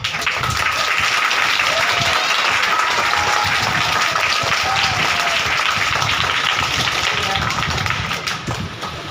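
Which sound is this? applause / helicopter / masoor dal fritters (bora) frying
applause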